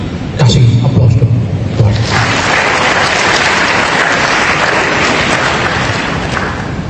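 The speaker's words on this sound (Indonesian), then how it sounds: "Kasih aplaus dong." Audience applause at a university graduation ceremony in Yogyakarta, a broad, sustained wash of clapping from a large crowd, loud and steady, with a brief voice at the start.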